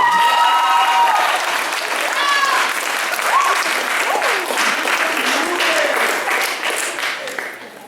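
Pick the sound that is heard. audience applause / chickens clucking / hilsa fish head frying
audience applause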